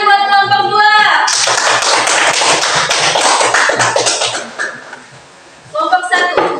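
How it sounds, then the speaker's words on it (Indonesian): Students in a junior high Islamic school classroom applaud group two, a sustained crowded clatter of hands that fades out, with a teacher's voice talking at the start and end. "Ya, tepuk tangan buat kelompok 2."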